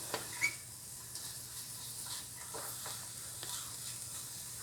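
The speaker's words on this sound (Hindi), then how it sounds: "सारे वेजिटेबल्स को हम अच्छे से मिक्स कर लेंगे।" Frozen mixed vegetables frying in a pan with steady soft sizzling hiss, broken by light scraping and clicking as a spoon stirs them, close and quiet with no talk.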